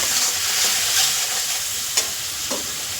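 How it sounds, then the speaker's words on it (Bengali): Spice paste with Kashmiri red chili powder sautéed in a pan, a loud continuous hiss of frying with a couple of brief spatula scrapes, close up and uninterrupted by talk. "তো মশলাটা খুব ভালো করে কষাতে হবে"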